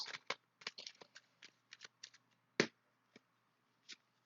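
Tarot cards are shuffled by hand in a quiet room, a run of soft, close riffling flicks and taps in irregular bursts, with one sharper snap partway through.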